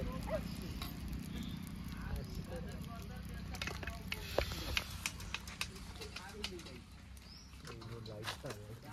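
Fish fries in a pan in a mango orchard, a faint, steady sizzle with scattered crackles and stirring clinks, under frequent talk, with birds calling in the background.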